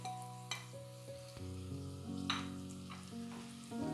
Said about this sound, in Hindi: और ये प्याज को हम गोल्डन ब्राउन करेंगे।